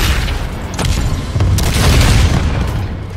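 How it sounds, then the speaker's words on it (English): A spaceship's self-destruct detonation ignites its core in a space battle, a loud, sustained booming roar with rumbling low end and a few sharper bursts, alone without voices. "The detonation will ignite the core"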